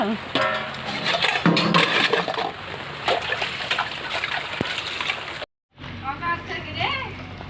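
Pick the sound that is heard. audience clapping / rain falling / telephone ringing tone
rain falling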